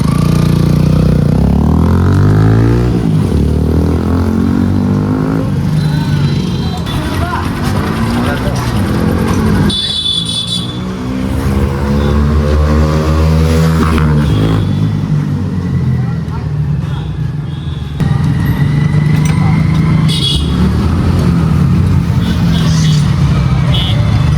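A Hero Xtreme 125R fitted with a full-system Akrapovic exhaust makes loud fly-by passes, its exhaust note sweeping up and down in pitch as it approaches and recedes, with a gap of quieter running between passes.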